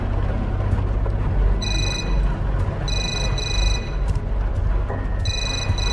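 A phone in a horror video game rings from upstairs, its electronic trill repeating in short bursts over a low rumbling background.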